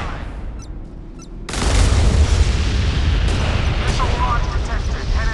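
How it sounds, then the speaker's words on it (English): A sudden, loud broadband roar of an enemy missile launch in the naval combat game Modern Warships, bursting in after a quieter low rumble and sustaining as a dense, rumbling blast to the end. "Missile launch detected, headed our way,"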